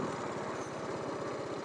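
The TVS Apache RR310 motorcycle engine thrums steadily at low revs, pulsing with an even rhythm as the rider shifts gears without throttle.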